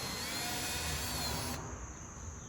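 Power drill boring a hole at the top for a dryer vent installation, a steady continuous whine with broadband grinding that cuts off partway, leaving a quieter high tone and low rumble.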